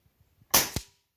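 Single shot from an Avenger .25 bullpup air rifle at a 100-yard range, a sharp, loud crack with a brief follow-up thump, standing alone against near silence.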